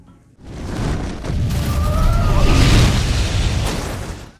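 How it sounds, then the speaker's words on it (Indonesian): A gas explosion in a film erupts as a loud, sustained boom and roar, swelling after a brief quiet start and rumbling on with crackling debris for several seconds, with no talk over it. "Untungnya, Frank dan Art berhasil melawannya dengan meledakkan sebuah gas."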